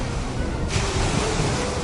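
Stormy sea waves roar in a dense, steady rush of noise around a Dutch ship, brightening abruptly partway through as a surge builds, with no voices.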